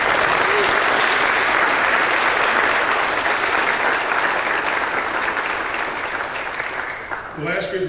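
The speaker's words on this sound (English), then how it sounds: "Let's give them a big round of applause." A high school spring concert audience gives long, loud applause that swells and holds, then tapers off near the end as a voice begins speaking over the fading claps.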